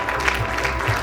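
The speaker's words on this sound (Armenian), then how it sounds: "Ծափահարենք մեր" An audience applauding at the opening ceremony of the Shirakatsi Days festival, a dense steady patter of many hands clapping at moderate distance.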